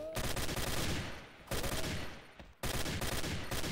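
Gold Dragon TAR rifle in the XSHOT shooter game fires loud, dense bursts of gunfire, broken by two short pauses, with a faint voice underneath.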